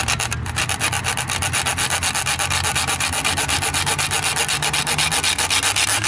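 Rapid, steady rasping strokes of a saw cutting into a YouTube play button plaque, loud and close, a continuous back-and-forth grinding rhythm with no talking.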